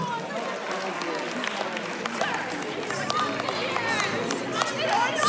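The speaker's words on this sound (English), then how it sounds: "Big round of applause." An audience at an evening awards event breaks into applause, a broad wash of clapping mixed with crowd chatter and voices that grows slightly louder toward the end.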